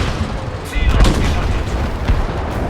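Gunfire in the Battlefield 5 video game, a few heavy booming shots over a dense roar of battle noise, with some talk mixed in.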